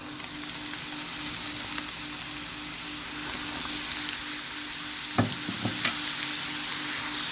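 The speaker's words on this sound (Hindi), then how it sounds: "अब हमने फ्रीज़र से निकली हुई फ्राइज़ इसमें डाल देनी है।" Frozen french fries fry in well-heated oil, a steady close sizzle and crackle with a few sharper pops and bursts of bubbling partway through, no voices.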